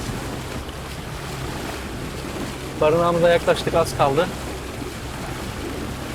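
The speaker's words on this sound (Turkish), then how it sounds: "Şu an gerçekten sert bir rüzgar var." Strong wind and rough sea waves batter a small boat carrying a family at sea after its motor failed. A steady roar of wind and surf fills the whole stretch, and a voice speaks briefly in the middle.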